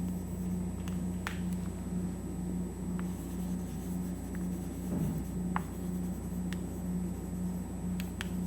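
Marker or chalk strokes scratch across a board during a graph theory lecture, quiet irregular scrapes and taps over a steady low background hum, with no talking.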